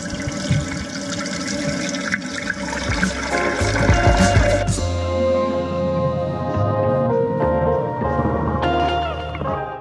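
Water rushes and gurgles loudly as a toilet cistern refills after a flush-unit leak repair, a continuous hissing flow with shifting tones, close by.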